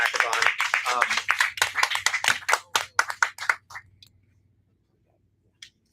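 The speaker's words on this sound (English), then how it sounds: "I want to give another round of applause for everybody who participated and joined in on this amazing hackathon." A small group claps for hackathon participants at a finalist demo event: quick, close handclaps that thin out and stop after a few seconds, leaving near silence with a stray clap or two.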